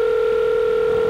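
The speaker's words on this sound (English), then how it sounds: "We're going to call Mr. Ginsu" A steady telephone dial tone hums loud and unbroken while a call is being placed, two clear pure tones holding without pause.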